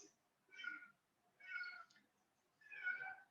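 A cat meows three times at a steady pace, fairly close but quiet, against a silent background.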